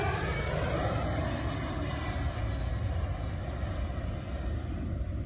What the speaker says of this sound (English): When this behemoth hits the runway, it deploys a parachute